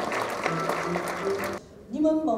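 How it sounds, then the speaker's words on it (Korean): Dense applause from a film critics' award ceremony audience fills the first second and a half, then breaks off as a voice begins speaking. "큰 박수 부탁드립니다"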